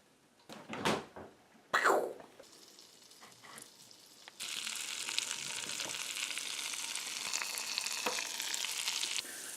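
A stove burner is switched back on before eggs start frying. Faint clicks and knocks come first, then from about four seconds a steady, loud, close hiss of sizzling fat fills the rest of the clip with no talking.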